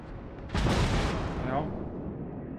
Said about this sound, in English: And this Bismarck's just fired.